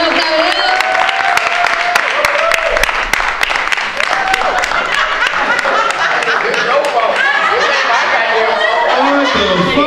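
A comedy-night crowd claps for a comedian coming to the stage, a dense run of sharp claps that keeps going through the clip, mixed with chatter, chuckles and a loud voice talking over it.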